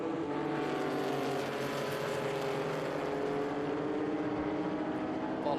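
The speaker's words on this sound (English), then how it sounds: "And there's the 54, another Porsche. This time a 1972 911S." A 1972 Porsche 911S race car in Group 5 qualifying at the 2022 Velocity Invitational holds a loud, steady engine roar with rich, buzzing harmonics throughout, never dropping off.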